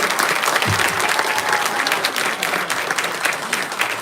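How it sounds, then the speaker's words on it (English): An audience at a spiritual class in Yokohama breaks into loud, sustained applause, many hands clapping steadily throughout with faint crowd noise beneath. "So please give a big applause."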